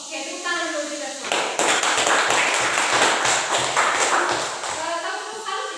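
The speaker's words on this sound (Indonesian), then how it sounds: "tepuk tangan dulu kita semua" Classroom students clapping their hands together, a loud crowded burst of applause that rises after a brief pause and keeps going steadily, with a teacher's voice talking before it starts.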